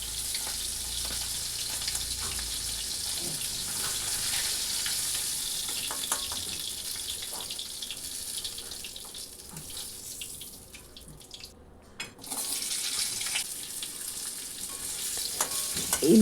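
Tengra fish frying in hot oil, a steady close sizzle and hiss throughout with occasional stirring clicks, briefly dipping before resuming.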